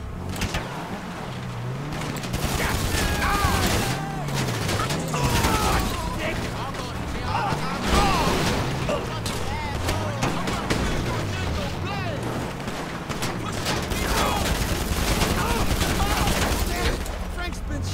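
Pistol gunfire in a video game played on hard difficulty, with repeated sharp shots scattered across a busy combat soundscape while a voice talks over it.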